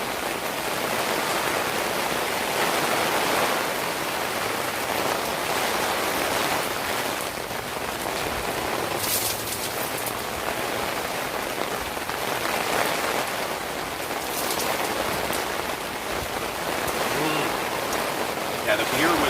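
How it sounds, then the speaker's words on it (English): Heavy rain pours steadily outdoors in Chicago, a dense, loud, unbroken hiss of drops on surfaces lasting throughout, with no pauses. "Rain in Chicago."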